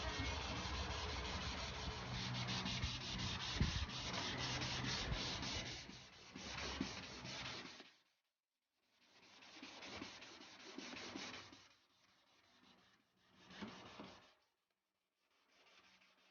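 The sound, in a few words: sanding headlight with 500 grit sandpaper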